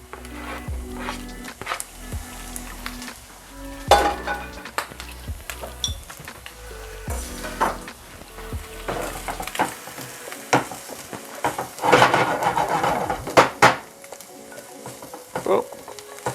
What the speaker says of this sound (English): now we can throw the mushrooms in real quick